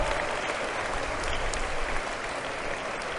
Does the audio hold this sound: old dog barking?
no